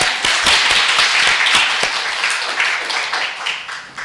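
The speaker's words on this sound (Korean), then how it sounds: "하나님께 영광 돌리는 박수입니다" A church congregation claps hard in unison to glorify God during a Korean sermon, a dense, steady wave of applause filling the room with sharp slaps standing out from the crowd.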